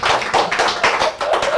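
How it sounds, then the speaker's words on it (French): A small studio audience clapping at a 1982 Stéréo 66 radio show in Perpignan, a short close run of uneven hand claps in quick rhythm. "Vous pouvez applaudir, merci. Bravo."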